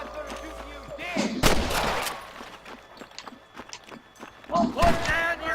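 Gunfire in the video game Red Dead Redemption: loud, close shots and booming reports with horse hooves and scattered game noise, mixed with shouting voices.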